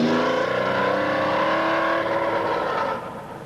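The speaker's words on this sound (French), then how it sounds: "Une deuxième Renault 5 Turbo officielle est confiée à l'espoir Bruno Sabi" Renault 5 Turbo rally car at the 1981 Monte Carlo Rally, its engine loud and close as it drives under load with a steady strained drone, then fading slightly near the end.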